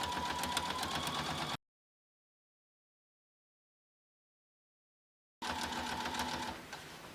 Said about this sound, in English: couple stitches back, and then sew down the length of it